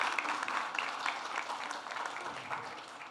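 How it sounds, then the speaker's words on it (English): Audience at a press conference for an Olay skincare product launch clapping steadily for a few seconds, a dense, moderately distant patter of many hands. "Can we have a huge round of applause for her?"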